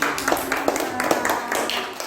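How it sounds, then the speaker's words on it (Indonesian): Classroom students clap in a steady, rhythmic pattern that stays fairly loud throughout, with voices mixed in. "Ya, tepuk tangan."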